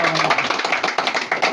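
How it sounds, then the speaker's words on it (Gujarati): An audience claps steadily at a political gathering, a dense patter of many hands close by with a voice audible underneath. "બધા આપણા આવનારા ભવિષ્યના ઉમેદવાર માટે આજથી તાળી પાડીએ"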